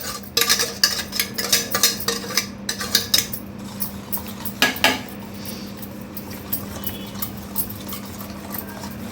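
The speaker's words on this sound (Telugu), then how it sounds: "విస్కర్ తోటి బాగా కలపాలి" A whisk beating half a cup of oil with half a cup of powdered sugar in a bowl for wheat flour biscuit batter, with rapid metallic clinks and scrapes against the bowl in bursts, then softer stirring.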